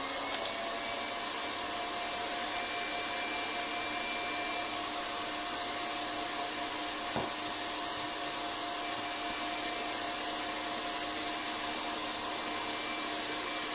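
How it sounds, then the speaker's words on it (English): An electric whisk whisking shortbread mixture, a steady high-pitched motor whine running continuously and fairly quietly throughout, with no talk. "And that's going to get whisked up again so that is all incorporated."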